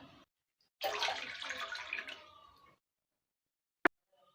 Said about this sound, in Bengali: তার জন্য 1 কাপ জল দিলাম, আর 1 কাপ দেবো জল